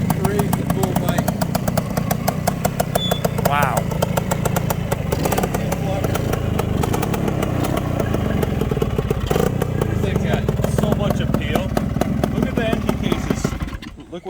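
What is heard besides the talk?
Bultaco 350 trials motorcycle engine running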